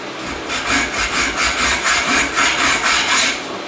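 Hacksaw cutting with quick, steady strokes, about a dozen rhythmic rasping pushes and pulls, close and fairly loud with no talking.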